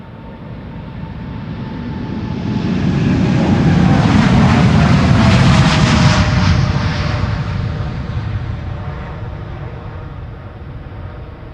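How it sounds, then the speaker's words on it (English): A Boeing 787 Dreamliner jet departs Schiphol Airport on a flight to Panama City, its broad engine roar swelling to a loud peak mid-way with a rumbling low end, then slowly fading as it moves away. "Another Dreamliner, this one going to Panama City, flight 757."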